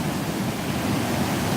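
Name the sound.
ocean waves crashing on the beach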